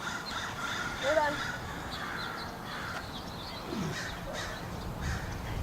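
Crows cawing at a distance, a few scattered harsh calls over outdoor background noise, with a person talking faintly at times.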